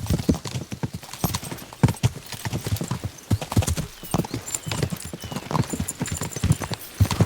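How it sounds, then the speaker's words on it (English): Horses gallop in a video game, with a dense, continuous run of hoofbeat clip-clops and an occasional whinny, loud and close throughout. "We should spur the horses on!"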